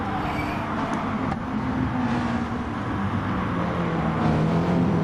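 Racing-game engines drone loudly and steadily during an overtake at St. Croix, a Lamborghini and a McLaren among the cars, with a continuous high whine and no pause.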